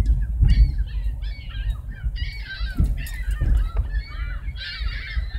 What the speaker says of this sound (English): I love the seagulls.